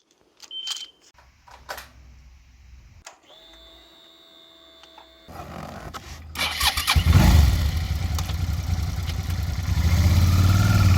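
Motorcycle in Mayenne, France, starting up with clicks and a whirring starter, then the engine catching and settling into a loud, steady running rumble close by.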